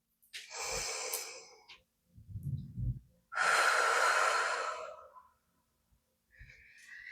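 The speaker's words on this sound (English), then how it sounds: "So let's all just take a deep breath right now." Deep, slow breaths taken during a relaxation moment: a long inhale, a softer low exhale, then a strong drawn-out breath, with a brief further breath at the end, close and clear with no talking.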